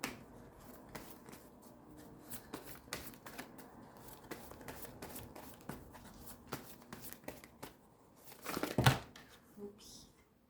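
Tarot cards are shuffled and drawn by hand, giving soft riffling and crinkling taps in a quiet room, with a louder burst of card handling near the end.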